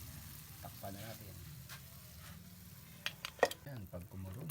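Mussels cook in a covered pot, giving a continuous low bubbling hiss. A few sharp metallic clanks of a utensil or lid come near the end, with a faint voice in the background.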